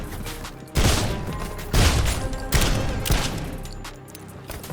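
A bolt-firing gun in a video game lets off several loud, separated shots, each a sharp blast with a decaying tail, spaced about a second apart.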